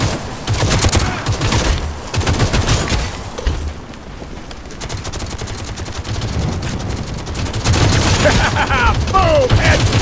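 Rapid gunfire rings out during an online team deathmatch in Modern Warfare, with dense automatic bursts and sharp shots broken by short lulls before heavier firing resumes near the end.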